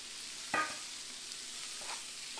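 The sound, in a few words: lobster added to hot pan with garlic and oil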